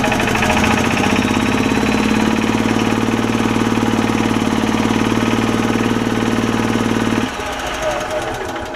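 The Kawasaki engine of a Club Car DS golf cart, which has a blown crankcase gasket and is leaking oil, runs with a steady, loud, rapid chugging thump that cuts off sharply near the end, with a voice talking over it.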